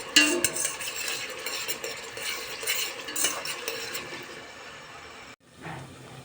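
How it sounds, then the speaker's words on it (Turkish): Onions fry in a pan for lentil stew, with a crackling sizzle under frequent scraping and clinking stirs of a utensil against the pan, close and fairly quiet, ending in a short pause. "Soğanlarım güzel güzel kavruluyor."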